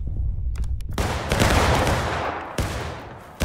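Guns firing during a woodland skirmish game outdoors, loud crackling bursts of rapid shots running almost continuously, with a sharp fresh volley near the end and no talking.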